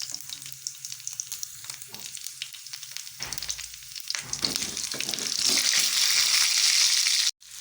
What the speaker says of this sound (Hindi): इन आलूओं को मैक्सिमम हम 5 मिनट तक फ्राई करेंगे, जब तक इसमें गोल्डन कलर आ जाए।